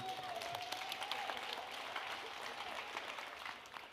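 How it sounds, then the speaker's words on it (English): A school district audience at a State of the District event claps steadily and moderately, a continuous patter of many hands that sounds somewhat distant and quiet. "Y'all can clap a little more than that"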